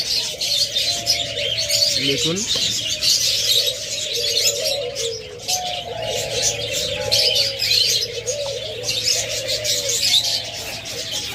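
Diamond doves and cockatiels kept as breeding pairs call together nearby: soft repeated coos run under brighter chirps and tweets throughout, and a voice briefly speaks.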